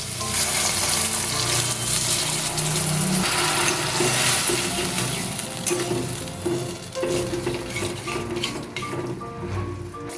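Potatoes coated in mustard and poppy seed paste sizzle in a pan as a little water is added, a dense hissing bubble with scraping stirs that settles and quietens slightly toward the end.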